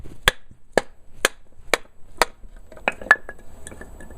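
A Schrade SCHF38 Frontier knife chops into hard wood, five sharp, evenly spaced whacks about half a second apart, then a few looser knocks and clinks trailing off, close and loud with no talking.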